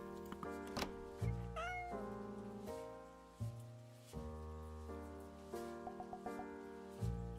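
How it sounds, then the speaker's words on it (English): A cat meows in the video game Spirit Talk, a clear rising-and-falling cry over steady, layered game music with soft plucked notes; no talking. "It's a cat."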